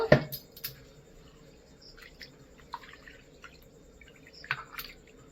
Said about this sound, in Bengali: ভালো করে ডালটা আমি ধুয়ে নেব।